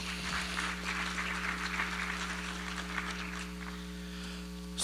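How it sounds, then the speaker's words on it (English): Audience applause at a non-profit symposium on private funders, a steady wash of clapping lasting several seconds over a constant low mains hum, fairly distant and moderate in level. "A round of applause for Ms. Starlet Hunter,"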